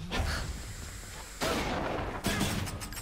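Shooting in the action video game Hades, bursts of rapid punchy gunfire-like blasts in separate volleys, loud and close, with faint talk in the background.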